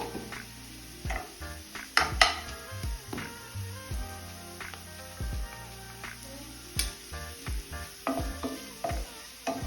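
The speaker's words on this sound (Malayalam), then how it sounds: "പിന്നെ കുറച്ച് ബട്ടറും ഇടുന്നുണ്ട്. അപ്പോൾ ബട്ടർ ഇട്ടിട്ട് ഒന്ന് ഫ്രൈ ആവാനായിട്ട് വെയിറ്റ് ചെയ്യുക" Soya rice frying in butter in a pan, stirred steadily with a spoon. Sharp scraping knocks against the metal come at an uneven rhythm over a constant close sizzle, with no talking.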